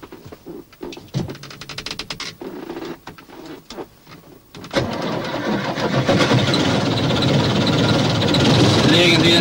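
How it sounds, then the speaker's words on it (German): A military vehicle's engine is cranked and fires up during a driving lesson: clicks and clatter, then a sharp catch into a loud, steady idle roar that fills the rest, close by. "Lassen Sie das Fahrzeug an."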